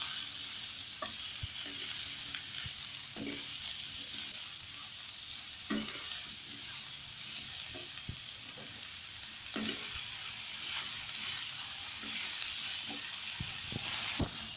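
About half a kilo of cauliflower frying in a pan for a mixed vegetable curry, a constant soft sizzle and hiss with occasional stirring knocks and scrapes, close and alone without speech.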